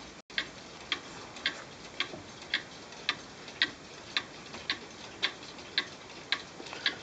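Antique hunter's cuckoo clock with carved flowers and plant life, ticking steadily alone at a regular pace of about two beats per second, crisp and close in a quiet room.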